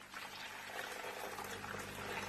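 Water tipped out of a fish transport bag into a bucket, a soft continuous splashing pour that runs steadily and grows a little fuller toward the end, faint and close.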